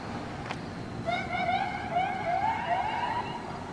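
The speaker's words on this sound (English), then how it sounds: "I never heard him play with the siren like that" Police siren played in short warbling bursts at moderate distance outdoors, a rising and falling wail under faint background noise.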